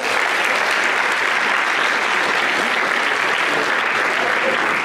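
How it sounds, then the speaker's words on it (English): Sustained applause from an audience at a student leadership summit as performers leave the stage, dense and steady throughout with no talk over it. "please give them a round of applause"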